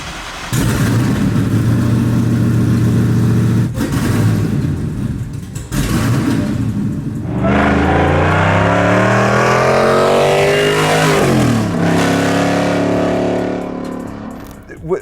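A 1,000 hp Hellephant-powered Dodge Charger revs hard close up, loud throaty blips rising and falling in pitch with a long sweeping rev and drop, while people talk nearby.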